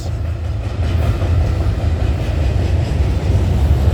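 A CN freight train with an Elgin Joliet & Eastern heritage unit rolls past at night, a steady loud low rumble with clickety-clack of wagons close by throughout.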